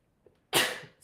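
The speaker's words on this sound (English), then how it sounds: "A sneeze is coming." One sharp sneeze close to the microphone, a quick breath just before it and a brief sound right after, in a quiet room.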